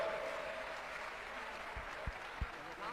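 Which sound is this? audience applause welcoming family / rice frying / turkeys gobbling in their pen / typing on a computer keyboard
audience applause welcoming family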